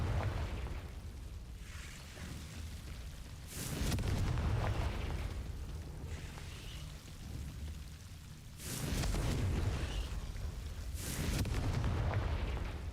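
Confringo blasting spell explosions in the Hogwarts Legacy game on Switch 2: deep, roaring booms arrive around the 4 and 9 second marks, each swelling loudly then decaying into a rumbling, crackling tail over steady ambient noise, with no talk.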